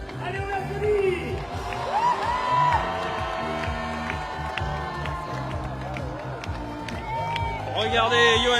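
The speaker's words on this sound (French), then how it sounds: "Allez, on l'applaudit." Crowd cheering and clapping along a street as the Olympic flame arrives in Reims, carried by torchbearer Johan Diniz, with whoops and rising applause under a loud announcer talking throughout.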